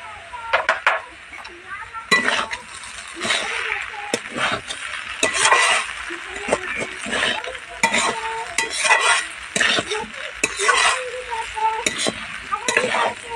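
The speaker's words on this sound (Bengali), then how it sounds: "এবার উপর থেকে ধনেপাতা কুচি দিয়ে একটু নাড়াচাড়া দিয়ে নামিয়ে নেব।" Egg chowmein being stirred and tossed in a pan with chopped coriander, repeated scraping and clinking of a utensil against metal over a soft sizzle, in irregular bursts, with a voice talking intermittently.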